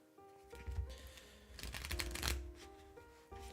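Playing cards from the Brass Birmingham board game being shuffled close up, several bursts of riffling and card slaps over about three seconds, with quiet room tone between.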